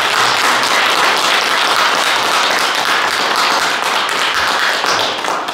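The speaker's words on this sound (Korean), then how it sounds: "오늘 함께 해주신 고마운데 큰 박수 부탁드립니다." Audience applause closing a lecture in Gwangju, a loud, dense burst of many hands clapping that holds steady for several seconds.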